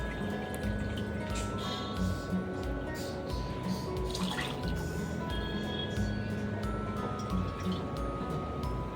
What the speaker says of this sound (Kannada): ನಾನಿಲ್ಲಿ 2 ಬೌಲ್ ಅಕ್ಕಿಗೆ 3 ಕಪ್ ಆಗುವಷ್ಟು ನೀರನ್ನು ಸೇರಿಸ್ಕೊತಾ ಇದ್ದೀನಿ